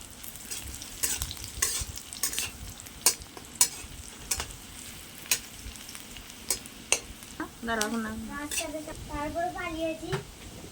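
Onions with a pinch of salt fry in a pan for a pointed gourd paturi, a continuous sizzle dotted with sharp stirring scrapes and clicks, and a voice speaking over the last few seconds.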